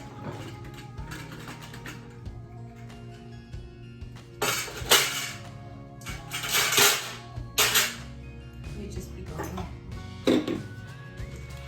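Small rocks scooped with a melon baller and moved between containers, giving irregular clattering and rattling with several louder bursts of stones clinking together against a soft background hum.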